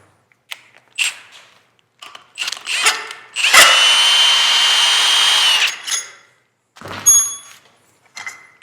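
A power tool with a removal tool unscrews a Can-Am governor cup, a loud steady whirr of about two seconds close by, set among scattered clicks, clanks and handling knocks.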